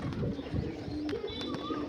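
Pigeons in a pigeon house coo softly in the background, a low throaty murmur under a dull rumble with a few brief sharp knocks, faint and somewhat muffled.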